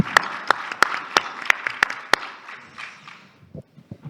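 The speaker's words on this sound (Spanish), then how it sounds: "Un aplauso para el patio gastronómico" A handful of sharp, evenly spaced claps ring out over a busy crowd murmur at a food-market conference panel, then trail off into a few scattered claps.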